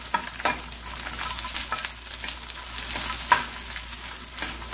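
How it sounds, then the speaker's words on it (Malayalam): Shallots and dried red chillies sauté in a hot pan for a Kerala chammanthi, a steady sizzling crackle broken by scraping stir strokes, close and continuous with no voices. "അപ്പോൾ ഉള്ളിയും ഈ മുളകും നന്നായിട്ടൊന്ന് വഴണ്ട് വരുന്നത് നമുക്ക് നോക്കാം."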